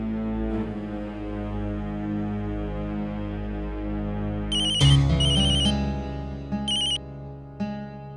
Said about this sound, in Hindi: नैतिक को फोन करती हूँ।